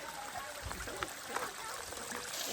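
Water flows and trickles steadily at a canyon waterfall, a continuous rushing wash mixed with faint voices and footsteps nearby.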